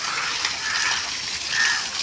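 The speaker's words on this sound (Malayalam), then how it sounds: "വെള്ളം അടിച്ച് കളയുന്നുണ്ട്." Water gushes steadily from a motor pumping it out of a fish tank, a continuous hissing rush with no talk.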